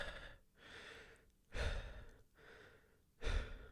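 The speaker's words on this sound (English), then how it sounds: "Katakuri spends 3 seconds on screen just breathing" Heavy, drawn-out breathing from the anime character Katakuri in One Piece: three deep breaths in a slow, even rhythm, close and alone, with no talk.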